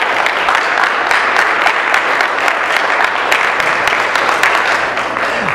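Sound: church congregation applause

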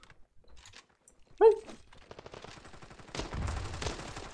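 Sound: gunshots in the video game Standoff 2

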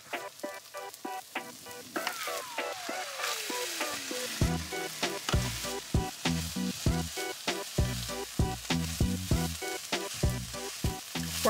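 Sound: meat, corn and frozen peas frying in pan

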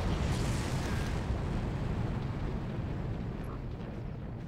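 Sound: gunfire in the video game Far Cry

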